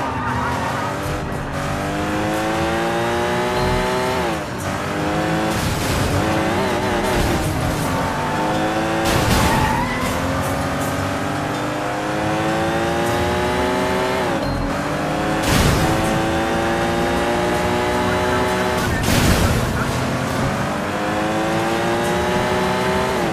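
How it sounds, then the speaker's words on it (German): Engine roar of a DLC car driven in the video game Sleeping Dogs, loud and continuous with rising and falling revs as gears shift, cut by several sharp broadband bursts like skids or crashes. "ich bin jetzt gerade in einem Wagen, den man eigentlich erst in einem Download-Inhalt bekommt"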